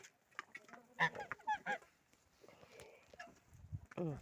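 Ducks and geese on a farmyard give several short honking quacks in a cluster, then another near the end, moderately close but quiet overall, with a person speaking softly between calls.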